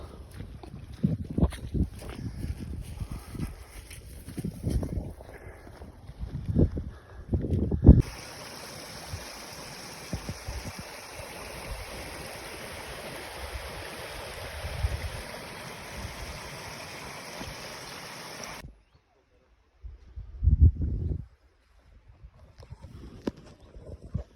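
Steady, broad rushing water from the Hoverla mountain waterfall in Ukraine fills the middle stretch, with wind buffeting the microphone and footsteps before and after.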